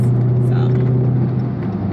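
A Dodge Hellcat's engine drones in a loud, steady, close rumble from inside the car while it is driven fast, holding an even tone without pause.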